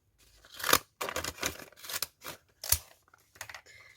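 Scissors snip through a brown paper bag for a junk journal, giving a handful of short, crisp, close cuts in an irregular rhythm with small rustles of paper between them and no voices.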